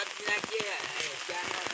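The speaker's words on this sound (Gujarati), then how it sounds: "ભડાભડી વરસાદની વાગે છે" Heavy rain on a tree-lined road pours down in a dense, steady hiss, while someone talks over it throughout.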